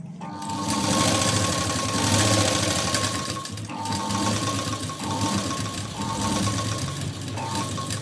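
A sewing machine runs in continuous close, loud bursts of rapid stitching with a steady mechanical whir and needle clatter, pausing briefly between runs.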